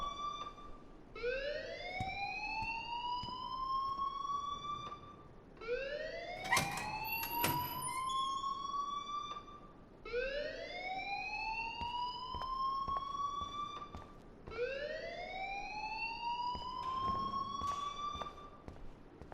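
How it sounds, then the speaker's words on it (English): A fire alarm rings in the video game Life Is Strange. It gives four loud, rising electronic wails at an even pace, each about four to five seconds apart, with no talking. "please turn off that alarm since that's your job"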